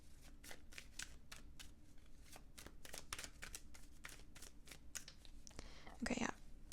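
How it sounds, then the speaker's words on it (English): A deck of tarot cards is shuffled quietly and repeatedly, with rapid crisp riffling bursts close to the microphone at a steady rhythm and a brief louder rustle near the end. "So I'll give it a few more shuffles, and then I'll pull them."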